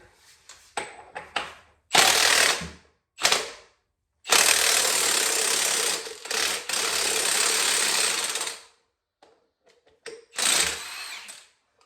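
An impact wrench works loose the 38 mm compensator nut on a 2000 Harley-Davidson Ultra Classic, rattling out in several loud bursts, one long hammering run in the middle and shorter blasts around it, with no talk.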